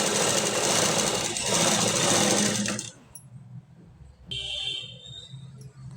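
Sewing machine stitching the lining of a blouse, a dense steady mechanical whir for about three seconds, then stopping, with a fainter burst of machine noise starting again near the end.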